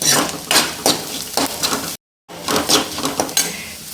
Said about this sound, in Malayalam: ഇനി നമുക്കിത് നന്നായിട്ട് മൂപ്പിച്ചെടുക്കാം